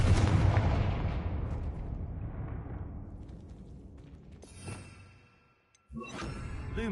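A Confringo fire spell in Hogwarts Legacy bursts with a loud booming blast that rolls away into a long fading rumble, followed by a smaller impact, a moment of near silence and then a sharp crackling burst.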